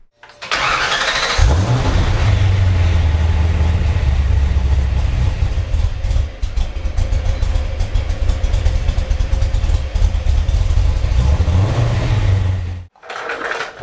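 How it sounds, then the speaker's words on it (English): A car engine cranks and fires up inside a garage, then settles into a loud, steady idle with a rough, throbbing low rumble that runs for over ten seconds before shutting off abruptly. "I'm gonna fire it up in the garage"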